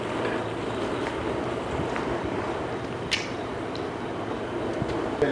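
Brussels sprouts hit a hot, oiled pan, producing a steady, loud, broadband sizzling hiss that runs unbroken throughout, with a couple of faint pops and no talking.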